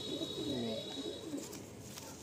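A lively pigeon of a flying breed, being shown for sale, coos in a soft repeated rolling pattern, close and moderately loud against steady background noise.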